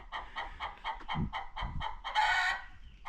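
Chickens cluck repeatedly inside a chicken coop, a steady run of short near calls that swells into a louder, longer squawk toward the end, with no talking.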